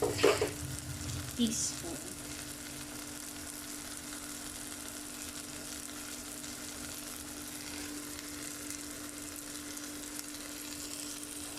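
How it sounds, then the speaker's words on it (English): Pav bhaji masala fries in a pan with a steady, low sizzle that continues evenly, after a brief clatter of stirring at the start, and a single word is spoken briefly. "So we will just mix everything and fry it for another 2"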